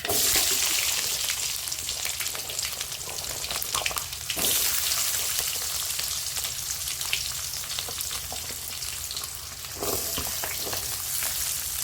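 Sliced onions and fennel seeds fry in a hot pan for a Kongu-style blood and intestine fry, giving a constant close hiss and crackle with occasional stirring scrapes.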